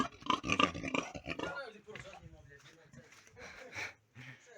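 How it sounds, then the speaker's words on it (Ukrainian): A farm pig grunting and sniffing close by in a series of short snorts and snuffles, mixed with a person talking nearby. "Ось свиня така."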